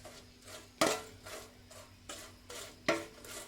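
Fried green chillies are tossed with salt in a metal pan or bowl, giving soft rhythmic scraping and stirring strokes with a few sharper clinks of a spoon against metal, faint and close, with no voices.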